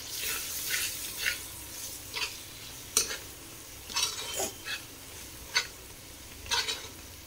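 Pav bhaji masala being stirred into frying vegetables in a pan, with a series of short scraping stirs over a soft background sizzle and no talk.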